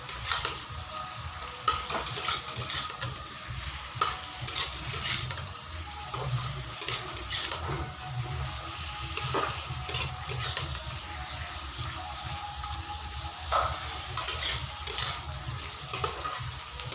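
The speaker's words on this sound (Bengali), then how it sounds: "শাকগুলো হালকা ভাজা হয়েছে" Spinach greens frying in a pan while being stirred, a steady close sizzle broken by repeated scraping and clinks of a utensil against the metal, with no talking.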